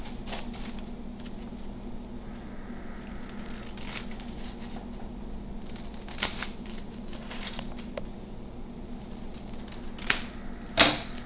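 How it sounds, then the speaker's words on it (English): Scissors cutting fabric inserts for a vintage doll trunk, a few quiet snips and rustles in a quiet room, with short, sharper cuts near the end. "So basically you just keep cutting until you get it to fit just right."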